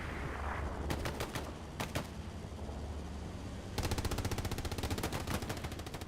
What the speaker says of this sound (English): Double MG action back here.